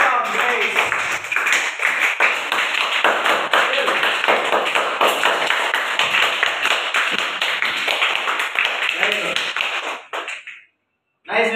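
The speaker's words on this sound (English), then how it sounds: "Give him a big round of applause." Sustained audience applause in a hall, dense and steady for about ten seconds, with a few cheering voices mixed in before it cuts off abruptly near the end.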